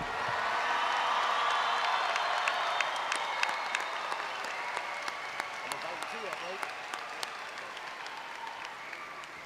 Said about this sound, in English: Let's give a big round of applause for the class of 2023.